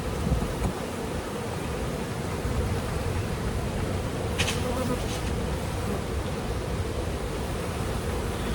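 Honeybees buzz in an opened beehive holding capped honey, a dense, loud, continuous drone from a large agitated mass of bees close by.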